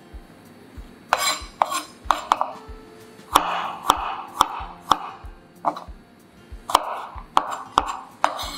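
A knife thinly slices garlic cloves on a cutting board for a celery and mushroom stir-fry, with about fifteen crisp chops in irregular bursts, some closely spaced, all near and moderately loud with no talking.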